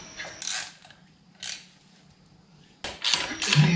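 Bolts on the primary cover of a Shovelhead motorcycle being tightened by hand, giving a few brief metallic ratcheting clicks in separate bursts with quiet pauses between them, heard close up and with no talk.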